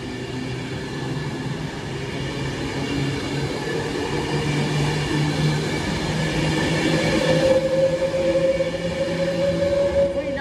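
A delayed CrossCountry passenger service to Bournemouth passes on the West Coast Main Line, a steady close rumble of wheels and carriages with faint squealing and rail clatter, no voices.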